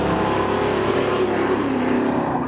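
A 1964 Chevy Chevelle and a 1984 Chevy C10 drag racing at Seekonk Speedway, engines droning in a steady, loud roar with no letup.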